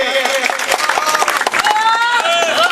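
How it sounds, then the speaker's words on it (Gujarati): A crowd at a folk gathering claps loudly to welcome a guest named Praveenbhai. Rapid claps run under a sustained voice or tonal sound throughout. "જોરદાર તાળીઓથી પ્રવીણભાઈને"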